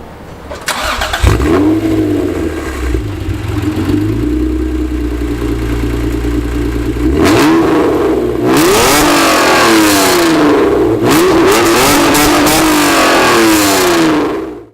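A 1993 Acura NSX with opened intake and exhaust starts and idles, then revs repeatedly. The rising and falling engine notes are loud and close, with a rapid string of sharp revs toward the end and no talking.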